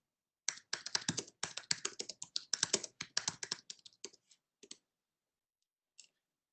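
Typing on a computer keyboard, a quick, irregular run of close, crisp key clicks that thins out into a few isolated taps and then stops, with no voices.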